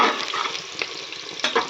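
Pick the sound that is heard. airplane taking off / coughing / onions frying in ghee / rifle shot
onions frying in ghee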